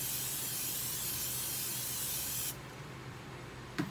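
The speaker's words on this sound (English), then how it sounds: "Now we're about to put in our cooking spray." A steady, continuous aerosol hiss of cooking spray into a heating pan lasting a couple of seconds, then cutting off abruptly, leaving quiet room tone and a faint clink.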